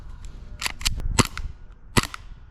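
An SSP-18 airsoft pistol firing with an extended magazine, a quick burst of sharp, close snapping shots, several clustered early and a final crack near the end, with no talking.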